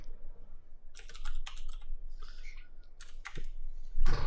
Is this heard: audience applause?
no